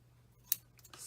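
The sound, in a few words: scissors snipping ribbon bow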